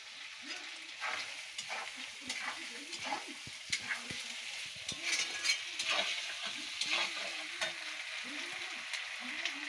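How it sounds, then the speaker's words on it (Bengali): Mutton frying in a pan with steady sizzling and a spoon scraping and stirring in repeated strokes, close and continuous, while a voice talks intermittently in the background. "আর এখানে মটন রান্না হচ্ছে"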